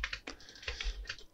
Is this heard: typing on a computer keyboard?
yes